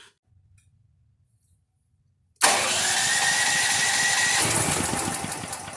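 A new Firman T07571 generator running on LPG/propane sits silent apart from faint low rumbles, then its engine fires abruptly into a loud, steady running roar close by.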